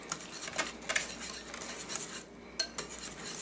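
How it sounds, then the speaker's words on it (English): A sauce is whisked in a bowl, making quick, close metallic clinks and scraping strokes in uneven bursts, fairly quiet, with a brief lull near the end and no voices. "we're going to whisk this"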